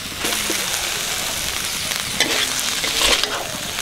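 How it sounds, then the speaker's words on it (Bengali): Water lily stems (shapla) fry in oil in a pan with a continuous close sizzle, interrupted by occasional scraping stirs and a louder crackling burst near the end. "শাপলা ভাজা হয়ে গেছে।"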